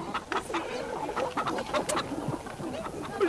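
Chickens cluck in a small coop, a busy stream of close overlapping clucks and short calls with no talk.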